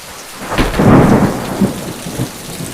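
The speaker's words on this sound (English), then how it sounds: "Look, it's raining, which is great." Rain falls steadily outdoors, with a brief rumbling swell that rises and fades over a few seconds, loud and close.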